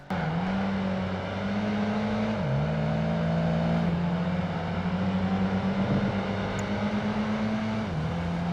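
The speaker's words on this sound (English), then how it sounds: "you'll hear engines roaring and tires screeching as you burn rubber." Engines roar in the Project Gotham Racing 2 video game, a steady loud engine drone holding pitch with two abrupt gear-shift drops, no distinct tire screech standing out.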